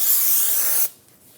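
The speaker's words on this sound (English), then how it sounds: "Spray the rotor with some brake parts cleaner." Brake parts cleaner hisses in one strong, continuous spray onto a brake rotor on a Ford Expedition, loud and close, then cuts off abruptly, leaving near silence.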